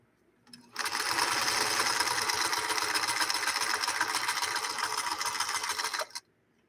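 A sewing machine stitches in one continuous, fast, buzzing run lasting several seconds, including a stretch of reverse sewing, close and loud, starting and stopping sharply.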